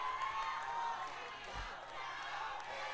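Talent show audience crowd cheering and shouting in a large hall, a steady loud roar of many voices with whoops rising and falling throughout.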